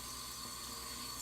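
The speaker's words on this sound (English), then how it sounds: "Don't mind the water, it is running because I'm gonna wash my face." Water runs steadily from a tap into a sink as the person gets ready to wash her face, a faint, constant hiss with no voices.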